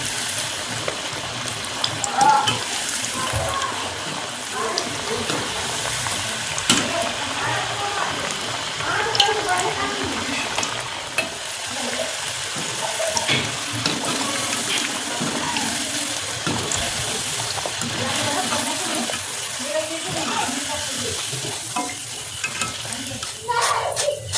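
Chilled boiled potatoes fry in oil with a continuous crackling sizzle, busy and close, while a voice talks over it.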